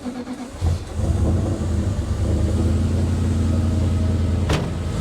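Twin-turbo Subaru Justy engine running loud and steady close by, with a deep droning rumble throughout and a brief rise near the end.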